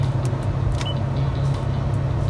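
A car engine idles steadily after a Tribo-MAX motor treatment, a close, even low hum with no change in pitch and a few faint clicks over it.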